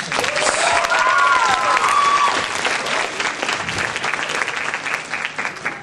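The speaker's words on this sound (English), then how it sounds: "Another big round of applause for Papa Music." Audience at the Anime Expo 2004 masquerade applauding a performer: loud, dense clapping from a large crowd with a few bright cheers and whistles early, fading slightly toward the end.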